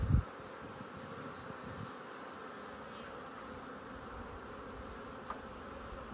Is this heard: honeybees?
yes